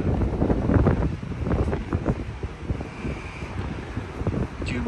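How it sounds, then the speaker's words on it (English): Strong wind buffets the microphone at a busy cruise port in Cozumel with ships nearby, a loud continuous roaring rumble with gusty swells and no speech. "Really windy."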